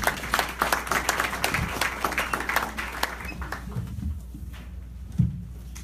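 An audience applauds a rapper after a slam poetry performance, producing dense, steady clapping from a crowd that continues for several seconds, thins toward the end, and sits over a low constant hum.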